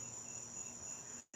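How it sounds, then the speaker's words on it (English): Steady, high-pitched cicada buzzing drones continuously at low volume, cutting out abruptly near the end for a brief silence before resuming. "This is cicada, buddy."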